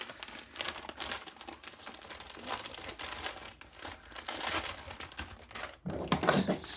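Crinkly plastic bag rustles and crackles continuously as items are stuffed inside, loud and close, with dense irregular crunching bursts throughout and no speech.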